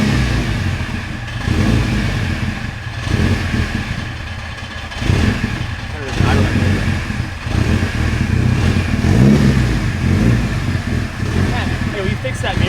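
An engine on a Mitsubishi Evo wagon project car idles and revs unevenly at close range, with brief throttle blips. People talk over it throughout.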